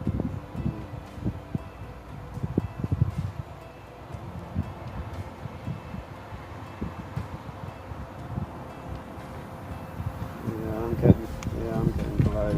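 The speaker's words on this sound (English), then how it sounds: "Yeah, it's really windy." Strong wind buffets the microphone during a Parrot Bebop 1 drone flight over cooling towers in extreme high winds, a steady rumbling roar with gusty low thumps throughout, louder near the end, while people talk over it.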